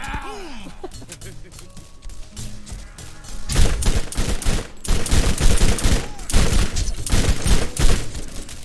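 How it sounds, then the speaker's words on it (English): Rapid SMG bursts in the Borderlands video game, dense clusters of sharp shots that grow louder and more continuous halfway through, with a player talking over the fire. "Why am I trying to use an SMG?"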